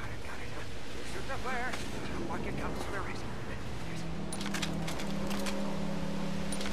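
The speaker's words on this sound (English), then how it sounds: "shoot this dude with the shotgun" Shotgun fire in the Mad Max video game: booming blasts and heavy combat noise beneath a car engine's drone, with a player talking excitedly throughout.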